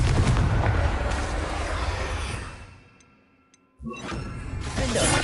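Confringo fire spell from Hogwarts Legacy blasts loudly amid ongoing combat noise, fading into near silence before another sharp burst and renewed rumbling explosions.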